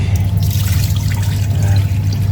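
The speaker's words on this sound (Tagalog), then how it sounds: "Lagyan natin ang tubig." Water runs and splashes steadily into a container while making focaccia dough, a continuous gurgling stream with a low hum underneath.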